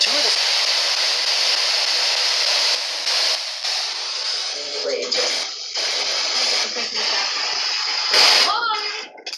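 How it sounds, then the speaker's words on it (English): Ghost box radio sweeping rapidly through FM stations at a slow scan speed, producing a continuous loud hiss of static with choppy bursts and brief fragments of broadcast voices flickering through. "So we've got it scanning the FM radio,"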